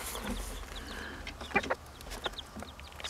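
Young chickens, growing into big chicks, cluck and chirp softly in a coop after eating corn, with a few sharper calls standing out around the middle over steady background noise.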